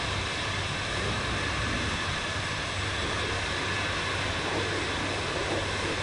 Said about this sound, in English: I hear a jet.